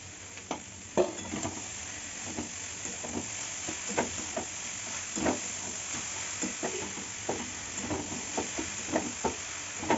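Chopped papaya with a splash of water goes into a hot pan for a papaya, raw chickpea and potato ghonto, sizzling steadily while a spoon scrapes and knocks the pan in a loose, repeated rhythm. No voices.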